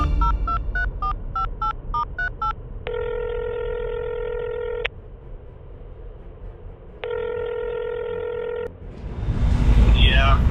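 A phone dials a quick string of touch-tone beeps, then two long electronic ring tones sound with a gap between them, close and clear. A voice starts talking at the end over background noise.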